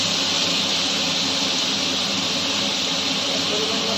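Elephant apple frying in a mustard seed tempering gives a steady, loud, broadband sizzle and hiss from the hot oil, continuous with no pauses and no voices.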